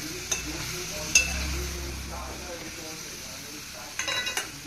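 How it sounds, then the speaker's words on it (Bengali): Whole spices, four green cardamom pods, a cinnamon stick and a dried red chilli, tempering in hot oil for chole, a low continuous sizzle with a couple of sharp utensil clicks and some stirring toward the end. "চারটে এলাচ ছোটো এলাচ একটা দারচিনি আর একটা শুকনো লঙ্কা ব্যাস এটা ফোড়ন দিয়ে দিলাম"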